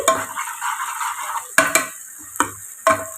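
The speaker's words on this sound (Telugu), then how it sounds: "అల్లం వెల్లుల్లి పేస్ట్ వాసన వచ్చేంత వరకు మనకి బయటకి గుమాయించాలి అప్పటిదాకా వేయించుకోవాలి" Ginger garlic paste sizzles in oil in a pan, its loud steady frying broken by several sharp scrapes and clinks of a spoon stirring against the metal.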